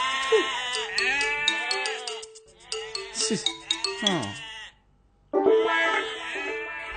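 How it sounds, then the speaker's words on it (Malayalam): Goats bleat repeatedly at close range in a home setting, overlapping wavering cries in a loud chorus with a short pause before another burst. "ആടുകളുടെ സംസാര സമ്മേളനം"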